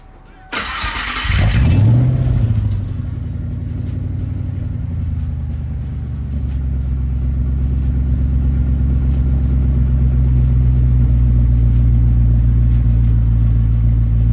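Ford Coyote V8 swapped into a vehicle, fitted with off-road exhaust and mufflers, cranks and fires, then settles into a loud, steady, deep rumbling idle with a low burble that holds for over ten seconds, no talking.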